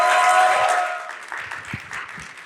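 Audience at a Friday church worship service applauds to welcome a pastor and his wife, with clapping swelling loudly at first and then tapering to a softer, scattered patter.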